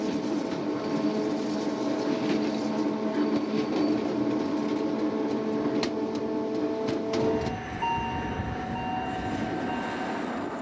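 The little red Bernina Express train runs through the Alps, a steady rumble and wheel clatter close by, with a sharp click and a change in the running sound near the end.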